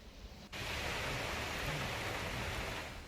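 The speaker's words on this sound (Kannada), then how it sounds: "ಮುಂಗಾರು ಪೂರ್ವ ಮಳೆನೇ ಭಾರಿ ಪ್ರಮಾಣದಲ್ಲಿ ಬರ್ತಾ ಇದೆ" A steady, dense roar of heavy pre-monsoon rain in Karnataka that starts abruptly after a brief quieter moment and continues evenly, loud and close, with no voices.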